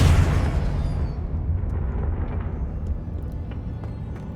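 A Confringo fire spell blasts in Hogwarts Legacy, opening with a loud, broad burst that settles into a long rumbling roar and slowly fades over several seconds.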